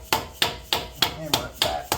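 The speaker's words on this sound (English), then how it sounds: "Use a screwdriver and a mallet." Seven evenly spaced metallic knocks, a screwdriver struck repeatedly with a mallet on a Toyota 4WD part in a steady rhythm, close and fairly loud.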